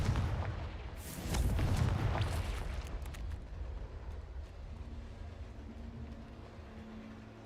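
A Confringo blasting spell explodes in the Hogwarts Legacy video game, a loud low boom with a rolling rumble that swells for about two seconds and then fades into a lingering hum.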